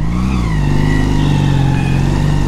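A classic Honda CD200 Roadmaster motorcycle is ridden, its engine a loud, close, steady drone with faint shifts in pitch and no talking over it.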